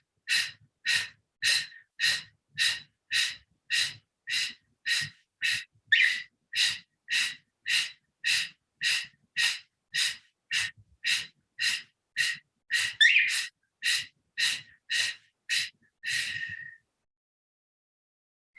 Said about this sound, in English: we start our active out breaths with passive in breaths